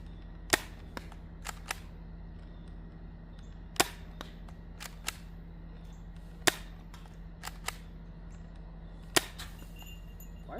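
Adventure Force Brute Pro foam dart blaster firing, a series of sharp, irregularly spaced snapping shots, several louder cracks among softer clicks, over a low steady hum.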